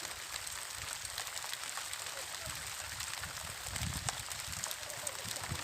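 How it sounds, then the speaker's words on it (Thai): Rain falling outdoors in the hills, a faint, continuous patter of drops with soft crackling ticks and a slightly denser burst partway through, no voices. "ตอนนี้ครับฝนตกนะครับฝนตกครับ"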